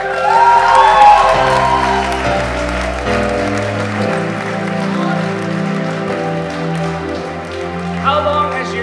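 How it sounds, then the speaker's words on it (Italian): Applause from a church crowd at a healing service in Rome swells over a sustained musical backing. It runs steadily and loud throughout and mixes with background voices and a brief burst of activity near the end. "Senti l'applauso."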